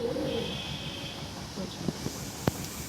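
Pigeons coo softly at a Kolkata pigeon market, with faint low calls early on and a few brief clicks and knocks later, set against quiet background noise.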